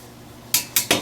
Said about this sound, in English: So let's pour this broth off of the chickens.